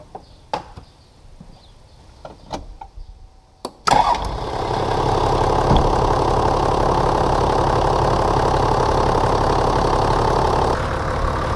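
A Toyota HDJ80 diesel engine at operating temperature cranks with a few clicks, catches abruptly and settles into a steady, loud, close idle that runs on without any talk.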